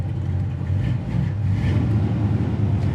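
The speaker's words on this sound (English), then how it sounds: "I really like having that 4-speed in here and how it drives" A 1957 Chevy Tri-5 with a 4-speed manual drives along, its engine giving a steady low rumble that swells slightly, heard from inside the car.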